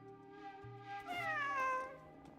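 A cat gives one drawn-out, rising-then-falling meow, fairly quiet and close, over a soft steady background with no talking.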